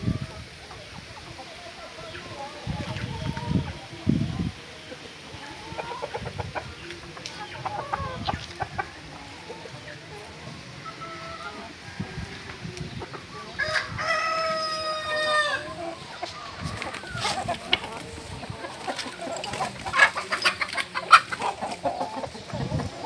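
Backyard chickens in Penedo, Alagoas, including Índio Gigante birds, clucking intermittently close by with a rooster crowing clearly partway through, amid scattered farmyard noise.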